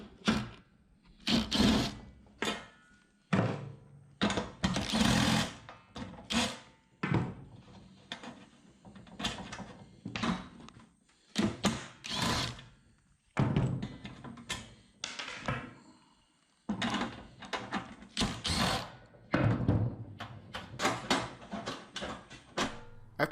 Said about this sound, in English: First, you remove the screws that hold the top cover